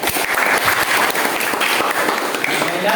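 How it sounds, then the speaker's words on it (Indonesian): A classroom of students applauding, a dense, loud burst of clapping that holds steady for a few seconds. "Kasih aplaus kepada ruang ini"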